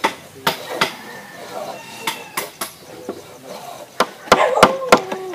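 Woodworking with a hand plane and a wood chisel produces sharp, irregular knocks and scraping strokes over a busy outdoor background, with a faint voice in places.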